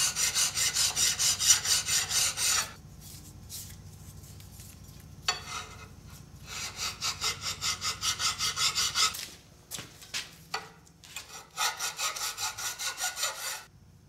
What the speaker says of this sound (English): So at this point, what we do is we just start filing.